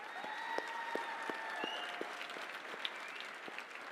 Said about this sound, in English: Big round of applause for Shoaib Akhtar.